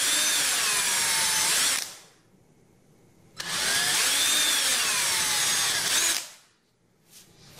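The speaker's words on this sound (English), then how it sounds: "bring in a screw gun, line up your bit with the hole here, and then drill about halfway through" Screw gun drilling into a wooden axle block for a small car build, two sustained loud whirring bursts of about two seconds each separated by a pause, then a brief faint tail of sound.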